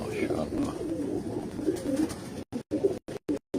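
Pigeon of a Punjabi striped breed cooing in low, rolling, repeated calls close by, with someone speaking over it and brief dropouts near the end.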